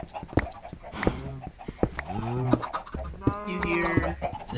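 Chickens cluck in the blocky farm world of Minecraft, a run of short, close clucks and squawks repeating at an uneven pace, with some speech-like sounds mixed in.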